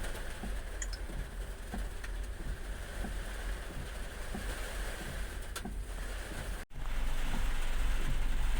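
Heavy rain pours down in Tokyo, a dense, steady roar with no break except one brief dropout, loud and enveloping throughout.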